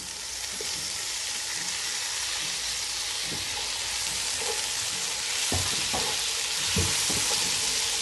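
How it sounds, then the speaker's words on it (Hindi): Tomatoes fry in a pan for chicken macaroni pasta, a steady close sizzle running throughout with occasional scraping clicks of stirring, and no voices. "टमाटर को भी हमें ज़्यादा फ्राई नहीं करना।"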